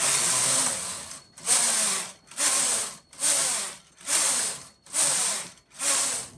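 A Brother KH-950i knitting machine knitting rows: the carriage sweeps back and forth seven times in a steady rhythm, each pass a loud close rushing whir separated by brief pauses.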